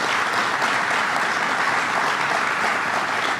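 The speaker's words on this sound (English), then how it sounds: "Let's give the sheriff a big round of applause." Steady, dense applause from an audience at a public funding announcement in Brentwood, clapping evenly and continuously throughout without a break.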